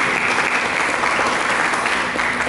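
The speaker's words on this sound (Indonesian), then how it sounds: "Mari kita berikan tepuk tangan bagi" A church congregation claps together in a dense, sustained round of applause, loud and continuous from start to end, with no speech on top.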